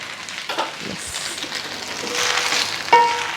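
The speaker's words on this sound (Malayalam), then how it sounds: "പുറത്ത് മഴയുടെ ശബ്ദം വേറെ." Steady patter of rain hisses in the background outside, with a soft sizzle of onion rice cooking on the stove and a brief tonal beep near the end.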